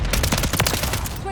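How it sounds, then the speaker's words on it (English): Mortar strike in Call of Duty Modern Warfare 3, a dense burst of overlapping blasts and crackling explosions packed into a second or so, loud and close with no clear gaps. "That's the mortar strike."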